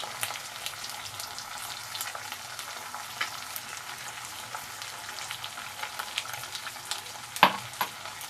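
Chili powder and salt sautéing in a pan for a pointed gourd and prawn dish: a continuous soft sizzle with scattered stirring scrapes and clicks, one sharper utensil knock near the end.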